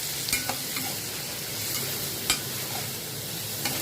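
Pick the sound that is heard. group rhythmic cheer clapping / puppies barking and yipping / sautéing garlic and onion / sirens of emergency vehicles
sautéing garlic and onion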